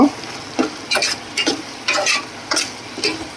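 A spoon stirs egg tomato curry with masala in a hot pan, giving a series of scraping strokes over a soft sizzle, close and irregular, about eight strokes with no talking.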